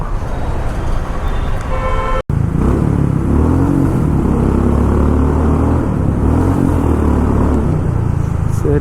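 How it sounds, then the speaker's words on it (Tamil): Motorcycle engines rumble and rev loudly and continuously during a road drag race between a 500 and a 350, with traffic noise around and a brief dropout early on. "எக்ஸாஸ்ட் சவுண்ட் எனக்கு ரொம்ப பிடிக்குங்க."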